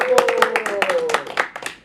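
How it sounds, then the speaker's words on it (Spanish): Brief clapping from a small group, quick irregular claps mixed with voices talking over them. "¡Un aplauso!"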